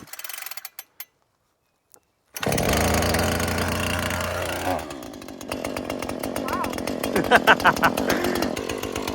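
A Husqvarna 440 chainsaw starts up with a pull and roars near and loud, revving and idling with a rising and falling engine note. A person exclaims once.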